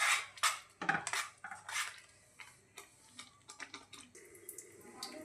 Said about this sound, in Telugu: పచ్చి వాసన పోయేంత వరకు బాగా ఫ్రై చేసేసుకోవాలి